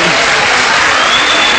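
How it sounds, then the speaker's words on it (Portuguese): Audience applause, a loud, dense burst of clapping close up that lasts through the brief moment without a break. "acho que as pessoas estão aplaudindo, estão se solidarizando"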